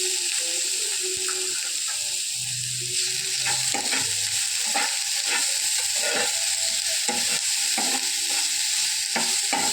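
Grated beetroot with onion sautés in an oiled pan for vada, crackling steadily up close while a spoon scrapes and stirs in repeated strokes.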